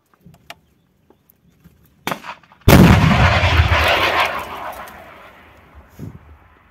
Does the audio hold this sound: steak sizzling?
no